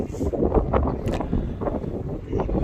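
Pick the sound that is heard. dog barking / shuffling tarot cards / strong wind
strong wind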